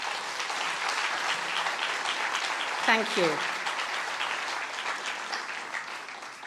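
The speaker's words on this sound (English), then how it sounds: "can we give them a huge round of applause?" An audience applauds at the Northern Writers' Awards 2026 ceremony, with steady, dense clapping filling the room throughout and a brief spoken thanks near the middle.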